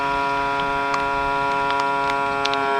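A small vacuum sealer draws air from a bag of filleted Spanish mackerel at a remote island campsite, giving off a loud, steady electric motor hum with faint intermittent ticks throughout.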